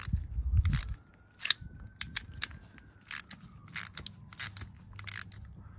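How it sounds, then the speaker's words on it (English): A hand ratchet tightens an alternator bolt on a 2017 Skoda Octavia mk3, giving a series of sharp, close clicking bursts in an irregular rhythm with brief pauses between strokes, heard alone without talk. "put the bolt in there and carefully tighten it up with the ratchet"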